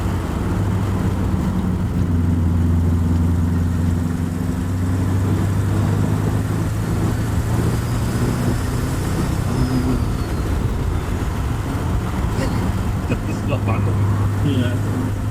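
A turbocharged TVR's engine drones loudly and continuously from inside the car, a dense low rumble with shifting tonal hums throughout.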